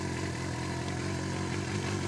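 A 2007 Kawasaki ZZR600 carbureted motorcycle engine idles nearby with a steady, dense mechanical rumble and no talking.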